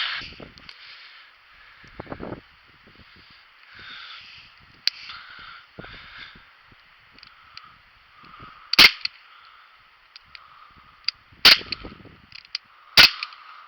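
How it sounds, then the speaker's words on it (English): A Daisy Powerline 5501 CO2 air pistol fires three sharp, close cracks with its blowback action, spaced a few seconds apart amid quiet rustling outdoors. "That was 3 shots with the blowback function enabled."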